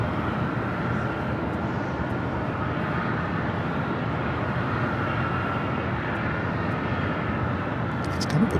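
An American Airlines Airbus A321 arriving at LAX from San Francisco gives a steady, broad jet roar that holds at an even level throughout, fairly distant and continuous with no talk.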